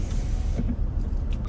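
Electric motor of a car's window sunshade whirring steadily after a button press, a close, low hum inside the cabin with no talking.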